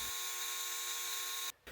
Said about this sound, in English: I drill pilot holes to prevent splitting the wood